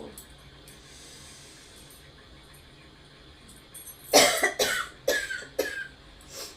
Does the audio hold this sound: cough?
yes